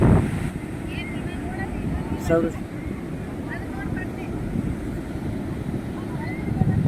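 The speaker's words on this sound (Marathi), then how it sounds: "अशा प्रकारे हे चंद्रभागा बीच आहे." Surf washing steadily onto Chandrabhaga beach near Konark, a broadband wash of breaking waves under wind noise, with faint voices of tourists in the background.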